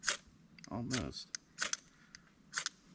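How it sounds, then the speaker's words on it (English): A ferro striker rasps against its rod to light a Tomshoo wood stove, giving several short, bright scrapes in irregular bursts, close and fairly loud, with a brief murmur of voice between them. "It's harder to light with a striker because you can't put the striker onto it."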